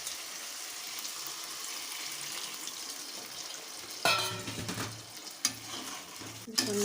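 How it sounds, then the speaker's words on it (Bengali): Chicken frying in oil sizzles faintly in a pan, then water is poured in, bringing a louder burst of hissing and bubbling with a few sharp clatters of stirring. "এরপর অল্প একটু জল দিয়ে দেব।"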